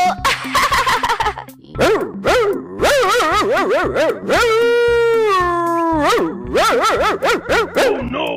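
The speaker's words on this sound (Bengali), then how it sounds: "আহা কুকুর, এত ডাকছিস কেন?" A dog barks loudly and close, then breaks into long drawn-out whines and howls between sharp yelps.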